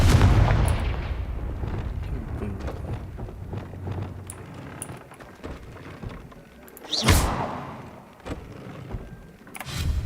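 A Confringo spell blast in Hogwarts Legacy erupts as a heavy, rumbling boom that fades out, followed by a sharper second burst and swirling magical whooshes over game ambience.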